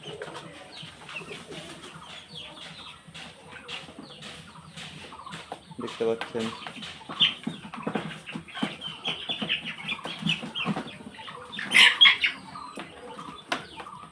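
Fayoumi chickens feeding in the late afternoon cluck softly in an irregular, close patter, while a person talks and calls to them now and then.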